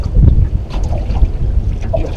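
Strong wind gusts buffet the microphone on a lake beside a fishing boat, a loud, steady low roar with rumbling bursts and faint water splashes, with no talking.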